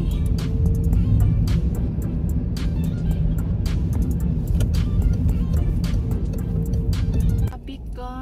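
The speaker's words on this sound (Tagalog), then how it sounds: "Traffic guys." City road traffic in Brno, Czech Republic, produces a dense, continuous low rumble of engines with repeated sharp clicks and knocks, close and steady, easing off near the end.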